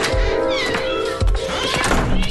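A cartoon cat meows in a cat lab, a loud close mewing with a few thumps underneath, among other animated sounds.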